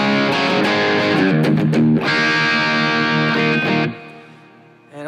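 Electro-Harmonix Cathedral reverb pedal with the blend at about ten o'clock: loud strummed guitar chords and quick note changes with reverb, cut off into a soft fading tail before a brief new note at the end.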